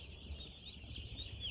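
Broiler chickens in a poly-roofed shed give faint, soft high-pitched cheeping and clucking over a low background hum, brief and quiet with no talk.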